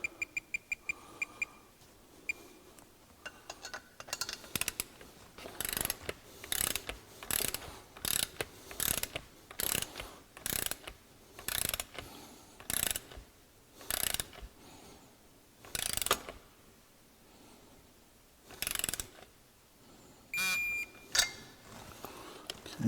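A ratchet wrench tightens a bolt on a Duramax LBZ turbo during a rebuild, giving a long series of evenly spaced, crisp clicks that come close and clear, with a short beep partway through.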